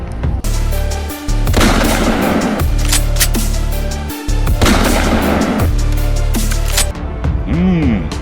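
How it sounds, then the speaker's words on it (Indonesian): A double-barrel toy shotgun fires a series of loud, sharp bursts with electronic blast effects close by, several shots spread across the stretch with brief gaps between them. "Wow, shotgun double barrel."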